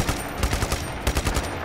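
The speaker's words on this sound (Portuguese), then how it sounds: "Putz, metralhadora não. Nossa senhora, o cara tem uma metralha" Machine gun fire in the video game Just Cause 3 comes as a quick string of sharp, heavy shots, loud and close, in a brief rapid burst.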